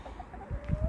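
A backyard chicken clucks softly among garden vegetable plants, a few short clucks followed by louder low rustling and movement close to the microphone.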